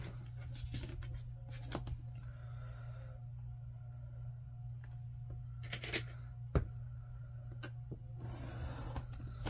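Scissors snipping through genuine vintage paper for a junk journal, several quiet separate cuts with pauses between them, close and faint over a low steady hum.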